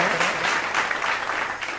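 Audience applause welcoming guests at an honours ceremony, a brief burst of dense, rhythmic clapping from many hands close by, loud and alone.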